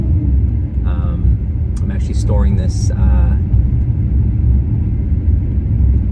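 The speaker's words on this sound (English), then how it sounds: "I am in my 2018 Maserati GranTurismo MC" A 2018 Maserati GranTurismo MC cruising on a morning drive: a deep, steady low engine rumble fills the cabin while someone talks over it.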